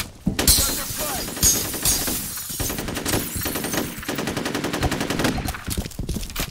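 Sustained machine gun fire in the FEAR combat video game, loud rapid rattling with a few louder impacts, with game voices heard over the shooting.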